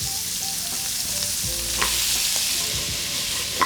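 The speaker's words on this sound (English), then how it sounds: "Now we're just gonna add in the vegetables." Vegetables sizzle and fry in a pot just after short ribs were seared, a steady crackling hiss with scraping and stirring clatter from a utensil, close and continuous without talk.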